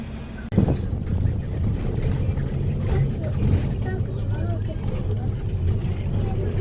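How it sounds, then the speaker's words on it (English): Riding inside a marshrutka minibus in Ukraine: a steady engine and road rumble fills the whole stretch, with a sharp thump near the start and indistinct voices in the background. "Public transportation called Маршрутка."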